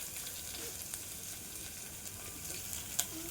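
Close, steady sizzling of a curry-leaf tempering for dal in hot oil, an even crackling hiss with a faint pop or two and one sharp click near the end.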